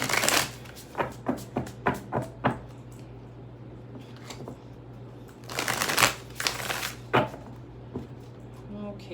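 Tarot cards are shuffled up close in a quick run of about six crisp riffles, followed after a pause by a longer burst of shuffling and a few more sharp card snaps.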